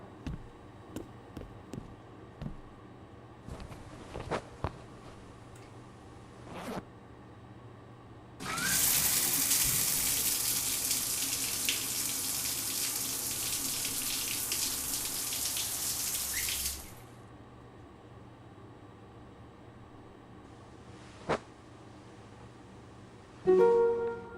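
A shower in the indie horror game The Milgram Experiment runs as a steady, bright hiss of water for about eight seconds, then stops abruptly, leaving quiet room tone broken by a few small clicks and taps.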